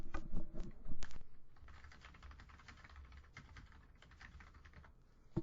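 Typing on a computer keyboard, with quiet, irregular keystroke clicks that come in bursts, close and soft, and a few louder taps near the start.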